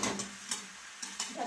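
Chicken coated in spices is stirred in a hot pan for a Bengali potato chicken curry, with soft sizzling under a few quick scraping strokes of a spoon.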